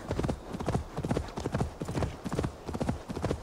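Horse hooves clip-clop in a steady, close rhythm as a rider travels on an expensive horse with a fine saddle in the video game Assassin's Creed Valhalla, the beats even and unbroken throughout.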